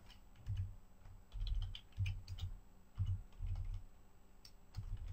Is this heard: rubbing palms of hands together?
no